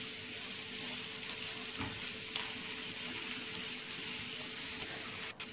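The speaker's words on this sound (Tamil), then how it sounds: "ஸோ ஆனியன் கோல்டன் ப்ரௌன் ஆகிற வரைக்கும் ஃப்ரை பண்ணுறோம்" Sliced onion frying in oil until golden brown gives a continuous, even, fairly quiet sizzle with faint stirring and no talking.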